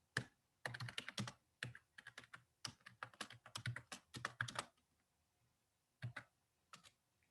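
Computer keyboard typing at a Standard ML top-level prompt: quick bursts of close, crisp key clicks in uneven runs, pausing briefly before a final short flurry, with no voices.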